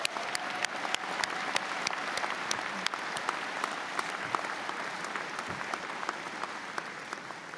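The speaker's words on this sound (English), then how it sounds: "How about a round of applause for him?" Audience at a university convocation ceremony applauding a graduate, a broad, steady patter of many hands in a large hall, with a few sharp, nearer claps standing out at irregular intervals.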